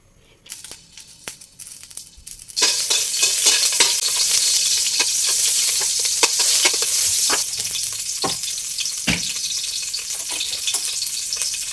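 Oil in a small frying pan, heated for a breakfast fry-up, bursts into a loud, steady sizzle after a few quiet clicks and taps. The hiss stays bright and continuous, with occasional sharp crackles and pops.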